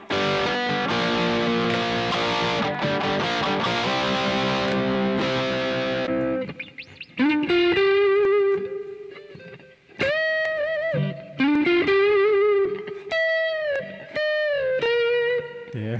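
A J&D ST-mini strat-style electric guitar in butterscotch blonde plays through effects, starting with dense distorted strummed chords, then sustained single notes and bends with brief gaps, loud and up close.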